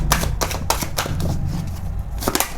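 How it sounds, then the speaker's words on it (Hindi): Tarot cards drawn and handled at close range, with a string of quick papery snaps and slides in uneven bursts over a low background hum. "तो अभी और निकालते हैं कार्ड्स"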